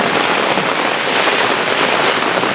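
Heavy rain lashes down in a severe thunderstorm in Brooklyn, a steady, loud wash of close spattering that holds constant for a few seconds without talk.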